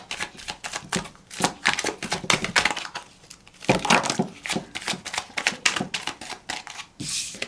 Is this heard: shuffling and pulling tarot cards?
yes